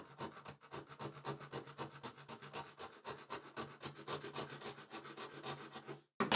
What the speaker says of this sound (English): I'm using a fine bladed hacksaw blade.